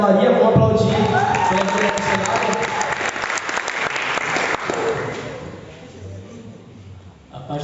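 A church congregation at a youth service applauds guests, a missionary couple, with loud sustained clapping that fades toward the end, and voices are mixed into the crowd noise.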